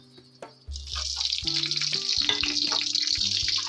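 Ghee heating in a pan for suji halwa, a steady broad sizzle that starts abruptly after a few soft clinks and continues loud and alone to the end.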